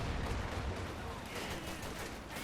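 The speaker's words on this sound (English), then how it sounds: "Both anti-tank guns hit the bleeding wall instead of the Panther." Anti-tank gun fire from the video game Company of Heroes 2, a dense burst of battle noise with booming low rumble and crackling shots packed together, steady and loud throughout with a voice faintly underneath.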